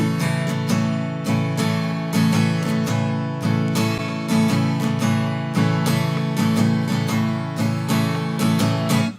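Acoustic guitar strummed with a swinging, lilting feel, the up-strokes arriving early, full and close, continuous chords without any voices.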